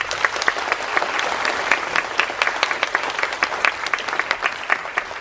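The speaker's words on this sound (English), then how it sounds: "all the teachers, all the professors, give them a round of applause" A crowd at a high school humanities symposium applauding teachers and professors, loud and dense clapping sustained throughout with sharp individual claps standing out near the listener.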